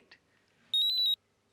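A phone rings with one short, high electronic warbling trill of rapid pulses, fairly loud against an otherwise quiet room.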